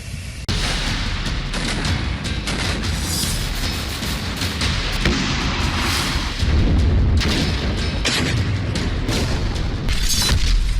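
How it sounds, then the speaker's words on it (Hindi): Loud, sustained roar of a missile strike exploding on a Ukrainian tank in a war zone, a dense rumbling blast with crackling bursts and booming surges continuing throughout. "देखिए ये धमाका, जोरदार धमाका"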